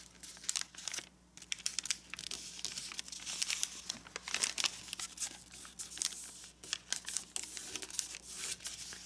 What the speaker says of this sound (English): let's fold this flap up so that the valley fold goes from this point to this point